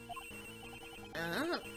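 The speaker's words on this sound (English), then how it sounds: "That sound is... her cell phone." A cell phone rings in Ace Attorney Investigations 2, a trilling ringtone with repeated short chirps and then a louder rising and falling warble over soft game music.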